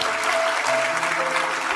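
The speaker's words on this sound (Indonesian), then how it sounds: "Beri tepuk tangan bagi Tuhan Yesus" Church congregation applauding during a sermon, a dense steady wash of clapping that fills the short moment, with a faint held tone running underneath.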